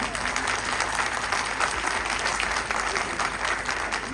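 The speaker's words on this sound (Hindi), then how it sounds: "मैं चाहता हूँ आप सभी लोग मल्हारराव होलकर के लिए एक बार जोर से ताली बजाएं।" A large crowd at a ceremony marking the birth tricentenary of Rani Ahilyabai Holkar claps loudly and continuously, a dense unbroken roar of applause filling the whole stretch without pause.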